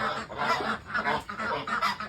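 Meat ducks, eight days old, quacking in a farm pen on a clear morning, a dense overlapping chorus of many birds close by with steady rising and falling waves.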